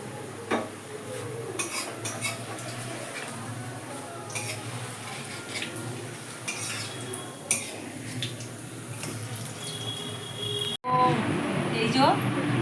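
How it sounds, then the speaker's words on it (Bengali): Beguni, battered eggplant fritters, frying in a home kitchen, with a soft steady sizzle beneath scattered clinks of utensils against the pan; a voice talks over it, and a brief cut near the end shifts the sound. "তো আমরা বেগুনিটা ভেজে নিই"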